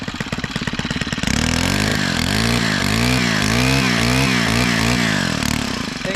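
A pull-start gas engine on lawn equipment starts with a brief rattle and settles into a loud, close, continuous run with a wavering pitch.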